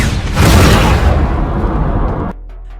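Two trackers blow up in a film scene with a loud, heavy boom that rolls on as a rumbling roar for about two seconds, then cuts abruptly to a low steady hum.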